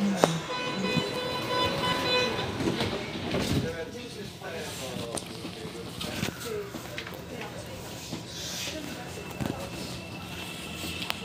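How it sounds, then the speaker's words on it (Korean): Inside a Gangnam–Gwanggyo subway car, a chime and a Korean and English 'Doors are closing' announcement play while doors slide shut with a thud, train rumble underneath and a low background hum. "출입문 닫힙니다. Doors are closing."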